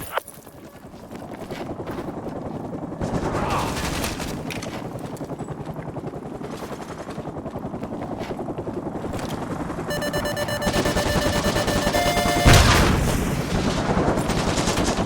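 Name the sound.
helicopter and gunfire in video game MW2 Remastered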